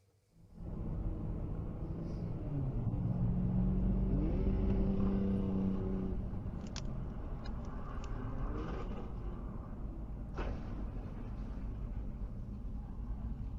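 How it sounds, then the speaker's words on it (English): A car fitted with a dash cam accelerates sharply, its engine note climbing over the first few seconds and then settling into a steady, loud rumble heard from inside, with no talk. "the car fitted with the dash cam can be heard accelerating sharply"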